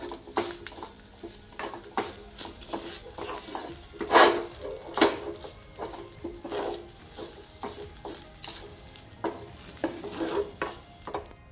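Grated coconut dry-roasts in a pan for modak filling, with soft sizzling under repeated spoon scrapes and taps against the pan, fairly quiet and close, with no voices.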